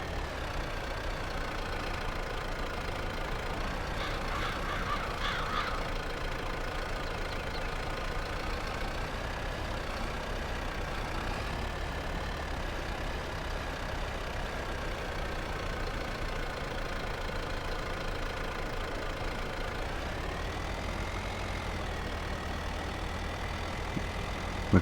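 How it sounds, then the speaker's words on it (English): A tractor in Farming Simulator 22 drags a heavy old plough and wheels a little despite its weights, its engine droning steadily at a low, constant pitch with a slight rise near the end. "So this is still quite a heavy old plough for this tractor"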